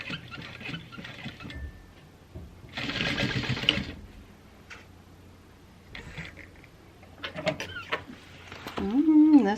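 Juki 1181 sewing machine stitching a Koda bag in short bursts, with the main run near the start and a second brief burst later, set between stretches of quiet room sound and some voice.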